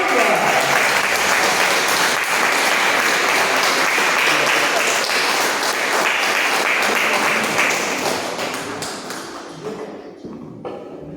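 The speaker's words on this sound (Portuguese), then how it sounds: "Eu te convido nesse momento a aplaudir bem forte ao Senhor Jesus." A church congregation applauds loudly and steadily for several seconds, the clapping thinning and fading toward the end.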